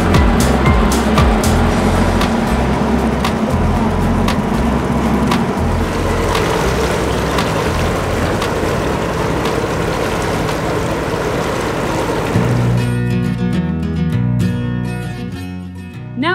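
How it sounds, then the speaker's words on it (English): A large ship motors alongside a sailboat in the Panama Canal, giving a steady, loud engine drone and low rumble with constant water rush that runs unbroken throughout and eases near the end. "we're right next to this ship, and unfortunately we're just matching speeds, so he's been driving next to us for about 10 minutes now"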